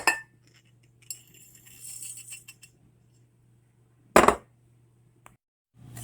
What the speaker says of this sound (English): now you have to mix the coconut and the pecans and set aside